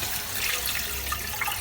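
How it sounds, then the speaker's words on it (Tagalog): Water pouring into a cooking pot for pork bone tinola, a steady close splashing stream lasting under two seconds with no talk. "Lagyan na po natin ang tubig."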